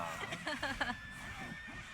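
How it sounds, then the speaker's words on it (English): A horse whinnies and neighs repeatedly as it takes hits in the Fire Emblem Warriors video game, with several sharp strained cries bunched near the start over a steady game backdrop. "that poor horse is getting beat up"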